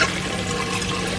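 Water pours into a busy, fast-moving section of an above-ground garden pond, a loud, close, steady splashing rush with no talking.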